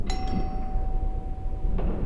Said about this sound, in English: We were down there maybe 2 minutes when the doorbell rang.